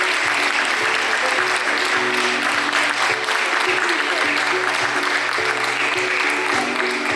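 Sustained applause from an audience at a nursing award ceremony during International Nurses Week, honouring a nurse. The clapping is dense and steady for the whole stretch, with faint tonal background sound underneath.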